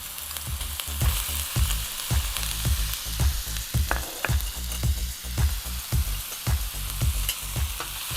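Tofu frying in a wok with Khmer spice paste, a loud steady sizzle punctuated by regular scraping stir strokes about every half second, close up with no voices.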